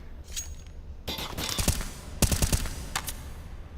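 Short bursts of rifle fire in a professional Counter-Strike match, a few sharp clustered shots after a quiet start, then another tight volley and a single late crack.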